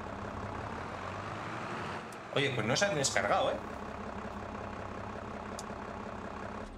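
A tractor engine in the video game Farming Simulator 22, a low steady hum that swells briefly into a louder rumble, while someone speaks over it.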